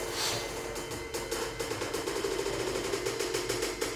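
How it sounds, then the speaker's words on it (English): A steady, fast rattling of a loose plastic cover on the back of a power wheelchair reclining, clattering on and on, close by, with no voices. "That noise you hear, that's just a plastic cover in the back."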